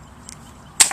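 A water rocket pumped to 90 psi launches once its pin is pulled, a single sharp burst of rushing air and spray near the end after a quiet, low hum.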